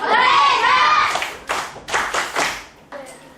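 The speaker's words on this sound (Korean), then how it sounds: "집중해 박수." A classroom of children claps in a rhythmic attention-signal pattern, a few sharp grouped bursts spaced across the second half, after a stretch of close voices speaking.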